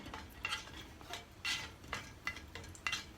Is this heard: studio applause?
no